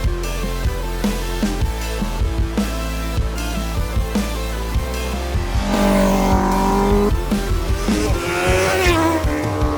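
Racing motorcycle engines on a race track roar and rise in pitch as a bike accelerates past, with repeated gear changes and a loud, continuous engine whine throughout.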